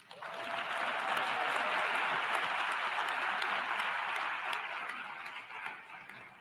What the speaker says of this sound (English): I want another round of applause for them